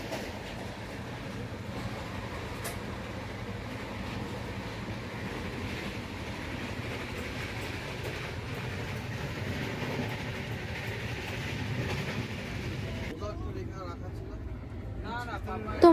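A passenger train rolls along its rails on a daytime journey toward Kashmir, a steady rumble and rattle of the carriage running throughout, with background voices mixed in.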